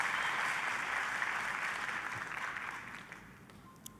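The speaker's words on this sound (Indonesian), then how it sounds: "kita kasih tepuk tangan yang meriah buat Tuhan kita." A church congregation claps during a sermon, an even wash of applause that gradually fades over a few seconds.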